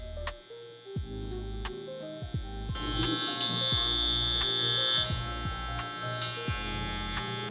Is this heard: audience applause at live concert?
no